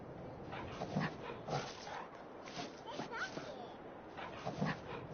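A dog in the Farmmit Inc. farming video game on PS4 gives a few short barks and whimpers in scattered bursts, with speech mixed in faintly underneath.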